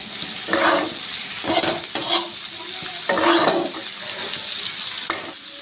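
Home-grown vegetables, including papaya, frying with coriander powder and spices while being stirred in a pan: a loud, close sizzle with repeated swishing, scraping strokes of the spatula coming every second or so.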